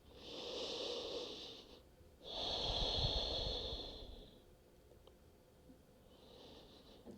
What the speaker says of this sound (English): Take long and deep breaths.